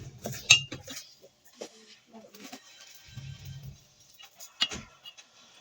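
Utensils scraping and clinking against a bowl while mixing lumpia shanghai filling of ground meat, egg, carrots, potatoes and pepper, irregular close clatters and taps with quiet pauses, alongside faint low murmuring voice moments.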